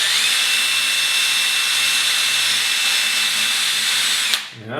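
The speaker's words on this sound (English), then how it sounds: "Now I'm going to drill a hole quite a bit smaller than what the" A power drill bores a pilot hole into a stripped screw, a steady high whining grind held for over four seconds before the motor suddenly stops and winds down, close and loud with no voices.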